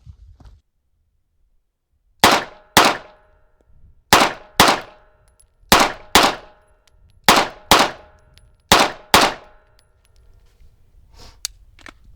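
A handgun fires ten sharp, loud shots at a target 21 yards away, in five quick pairs spaced about a second and a half apart, each crack ringing briefly against an otherwise quiet range.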